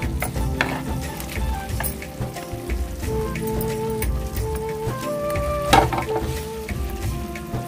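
Chopped tomatoes fry with browned onions in a hot pan, giving a steady close crackling sizzle. Scattered pops and scraping stir sounds run over it, and nobody speaks.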